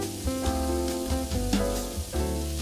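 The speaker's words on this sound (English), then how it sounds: "Our next step is to stir fry the vegetables." Vegetables stir-frying in a pan for a couscous dish, with a steady close sizzle and irregular clatters as they are tossed. A faint tonal hum runs underneath.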